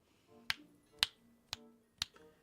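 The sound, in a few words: finger snapping to wake sleeping companions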